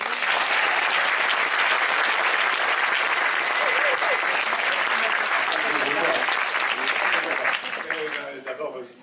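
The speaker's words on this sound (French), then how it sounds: "on peut peut-être déjà l'applaudir" Audience at a film talk applauding, a dense, loud burst of clapping that holds steady for several seconds and then thins out and fades at the end.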